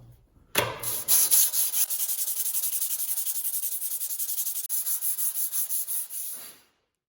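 A steel chisel is rubbed back and forth on 120-grit sandpaper during sharpening, making a loud, rhythmic rasping scrape of quick, evenly spaced strokes that briefly pauses once, then continues before stopping.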